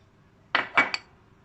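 A few quick clinks and knocks of salt, sugar and other tiramisu ingredients going into a metal pot, three short bursts close together, otherwise quiet.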